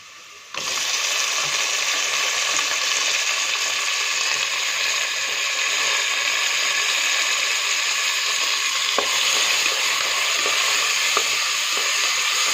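Tomatoes sauté in a hot pan for chicken kuruma, starting abruptly with a loud, continuous sizzle that holds steady, broken by an occasional faint stir or clink.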